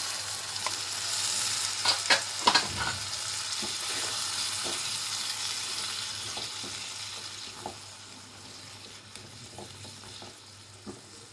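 Frying potato curry (aloo karaisutir sabji) sizzles steadily in the pan with spoon clinks, and a short splash of water poured in near the start briefly flares the sizzle, which then settles and fades quieter.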